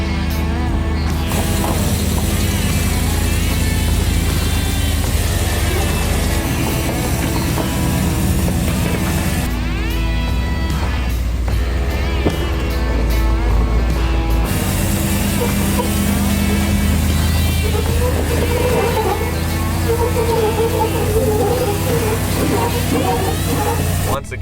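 Rad Charger off-road vehicle climbing straight up a hill, giving a loud continuous engine and drivetrain roar with mechanical clatter throughout.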